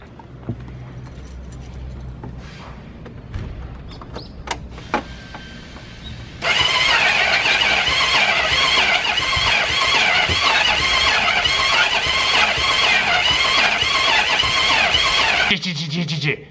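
A scooter's electric starter cranks over and over without catching, a loud sustained whirring grind lasting several seconds after some quieter handling noises, then abruptly stopping.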